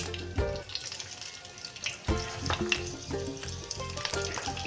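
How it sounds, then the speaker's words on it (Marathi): Cumin, mustard seeds, curry leaves, garlic and tomato are tempered in hot oil, with crackling sizzle and sharp popping bursts, close and moderately loud. "जिरे, मोहरी, कढीपत्ता, लसूण, टोमॅटोचा छान असा तडका दिला."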